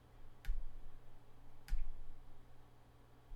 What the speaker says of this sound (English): So let's just hit the backslash key on our keyboard.